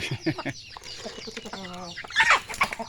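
Backyard chickens raised village-style cluck close by in a few short, uneven calls, with one longer sustained call in the middle and rustling farmyard noise around them.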